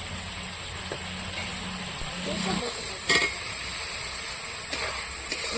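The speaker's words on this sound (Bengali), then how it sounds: "এখন আমি যে টমেটোগুলো রেখেছিলাম এখানে কেটে লম্বা করে এই টমেটোগুলো দিয়ে দেবো" Chopped tomatoes go into a sizzling ground-spice paste for a Bengali fresh pona fish curry; a steady frying hiss thickens into louder sizzling and crackle after the tomatoes land, with a faint voice in the background.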